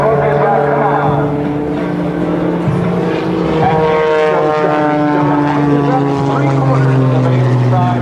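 Small bright red aerobatic biplane performing overhead at an air show, its propeller engine droning with shifting pitch as it maneuvers, heard under continuous announcer talk over a loudspeaker.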